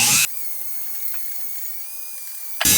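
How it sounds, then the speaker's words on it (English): A 600-grit rotary bristle disc on a rotary tool whines steadily as it cleans the holding mechanism of a screwdriver, a sustained high-pitched spin with slight wavering, close and alone. "bristle disc."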